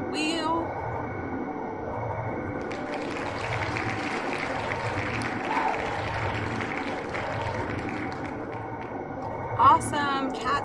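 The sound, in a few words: round of applause for a bake-off winner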